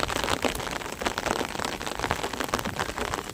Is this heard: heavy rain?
yes